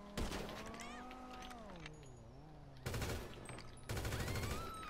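Rapid bursts of gunfire in GTA V Online come in loud clusters, with a tonal hum running beneath and between them.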